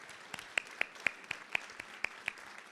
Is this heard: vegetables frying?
no